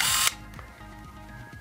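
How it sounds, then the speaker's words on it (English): A Ricoh Auto-Half SE2 half-frame camera fires its shutter, a short loud mechanical burst followed by the quieter whir of its spring winder advancing the film, heard up close with no talking. "it just took the photo in there, used the winder system that it did the shutter, and then it advanced the film that half frame"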